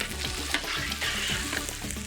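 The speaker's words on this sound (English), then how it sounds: "Cook the rice until the grains are shiny. Then add dry white wine" Bomba rice frying in a pan with dry white wine, a steady close hiss and sizzle with bubbling crackle throughout, loud and continuous without speech.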